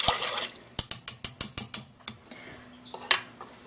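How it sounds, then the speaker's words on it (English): Pumpkin custard mixture ladled into ramekins, heard as a quick run of about eight sharp clinks of ladle against dishes with a liquid pour and drips underneath, then a few scattered knocks, close and moderately loud. "I like to use a ladle to get this over into the ramekins."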